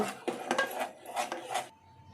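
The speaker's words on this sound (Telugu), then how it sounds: "దీన్ని అడుగంటకుండా ఇలా ఒక 5 మినిట్స్ కలుపుకుంటే మన పుడ్డింగ్ రెడీ అయిపోయినట్టే." Spoon stirring mango pudding in a pan, several close scraping and clinking strokes in an uneven rhythm, then quiet.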